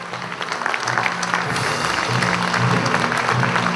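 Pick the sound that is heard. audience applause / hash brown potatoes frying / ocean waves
audience applause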